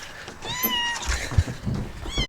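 A small kitten found on a farm meows several times in thin, rising cries, close and fairly quiet, with rustling handling noises between the calls.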